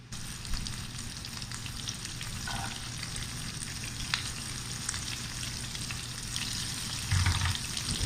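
Garlic, shallots and mushrooms frying in butter for a steak sauce, a steady close crackling sizzle with a low hum beneath and occasional pan clinks, no talking.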